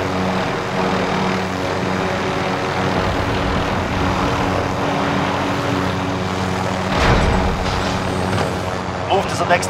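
An enemy helicopter in the video game Call of Duty: Modern Warfare roars loudly and steadily throughout, a dense rotor and engine drone that never lets up.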